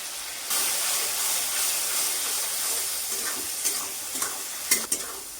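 Poppy seed paste goes into a hot pan for a ridge gourd and potato curry, setting off a loud, sustained sizzle and hiss that starts abruptly and settles into crackling frying with a few stirring clatters near the end.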